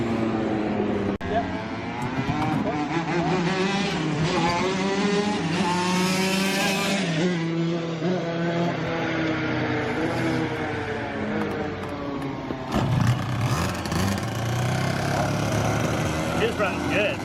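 A go-kart engine fires after a push start at a slick kart track and revs loudly and continuously with wavering pitch, with voices audible over the motor noise.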